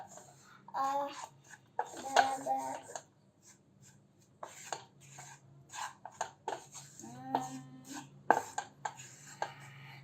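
A metal utensil stirring ragi flour scrapes and clinks against a pan in short repeated bursts, close by, with faint background hum and brief pauses between strokes.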